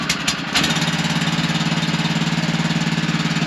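Small gasoline pump engine on a Thunder Creek MT690 fuel trailer starts up and settles into a steady, loud, close chugging run with an even throbbing pulse.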